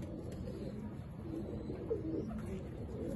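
Pigeons coo faintly in a low, soft murmur, muffled and distant under a steady background rumble.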